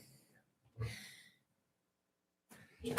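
A person sneezes at a city council meeting, two short bursts of breathy noise separated by silence, quiet and somewhat distant in the room.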